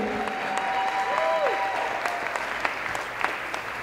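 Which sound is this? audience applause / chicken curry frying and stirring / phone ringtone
audience applause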